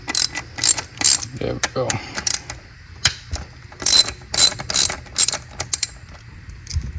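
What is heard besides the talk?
ratchet loosening bolts on a Honda Accord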